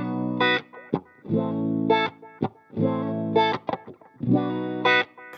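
Electric guitar played through Harley Benton Ottawa and DC effects pedals, heard as short bursts of distorted chords with choppy rhythmic stops and bright overdriven harmonics, close and clear.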